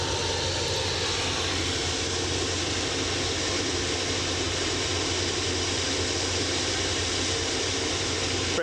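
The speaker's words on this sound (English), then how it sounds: "British Airways on final." A British Airways airliner on final approach into Edinburgh, its engines a steady, broad roar that holds evenly throughout with no voices over it.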